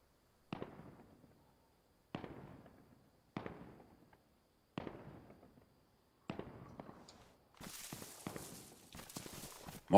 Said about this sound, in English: Multiple people shooting now.